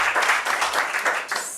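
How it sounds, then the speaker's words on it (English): A short burst of audience applause at an academic session on One Health surveillance, a modest group clapping in uneven pulses, moderately close. "Another round of applause,"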